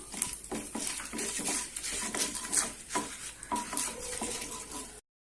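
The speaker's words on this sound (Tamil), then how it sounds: "இப்போது இந்த உளுத்தம் பருப்பு செவக்கிற அளவுக்கு வறுத்துக்கலாம்." Urad dal and dried chillies fry in a pan for Chettinad-style kara chutney, a close crackling sizzle with repeated scraping stirs and spoon taps, stopping abruptly before the end.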